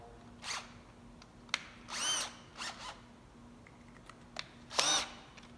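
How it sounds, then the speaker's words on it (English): A power drill bores a pilot hole into the sheet-metal bedside of a Dodge truck, coming as several short, loud high-pitched whining bursts separated by pauses, close up with no talking. "I'll drill a pilot hole"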